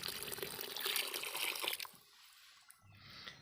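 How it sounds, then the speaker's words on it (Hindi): Water poured into a bucket of lime being soaked for a fish pond, a steady splashing pour that runs loud for nearly two seconds, then drops to faint trickling and stirring. "फिर उसमें चूने की मात्रा के अनुसार पानी डालें और फिर दोनों को अच्छे से मिक्स करके छोड़ दें।"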